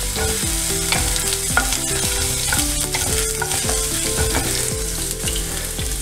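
Crushed ginger frying in hot coconut oil in a pan, a continuous sizzle with rhythmic stirring scrapes repeating steadily throughout, close and clear.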